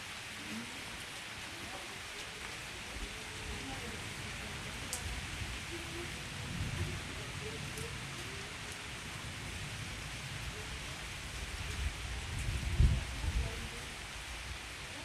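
Steady evening rain falls in Germany as a dense, even hiss, with low rumbles of distant thunder swelling now and then, the loudest roll near the end.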